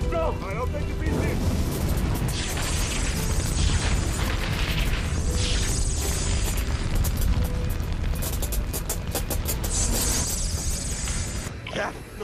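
Cobalt ignites in a fiery blast during a TV drama rescue, a dense, loud roaring rumble of booms and crackling bursts that goes on throughout, with voices shouting beneath it.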